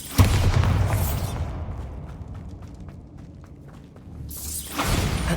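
A Bombarda spell detonates in Hogwarts Legacy with a heavy thumping boom, then a rumbling decay that fades before another surge of blast noise rises near the end.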